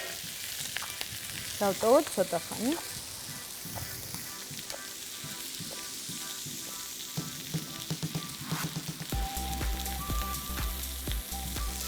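Fish and vegetables sizzle steadily on a grill, a continuous close frying hiss with scattered crackles and a few clinks of utensils, and a brief spoken line partway through.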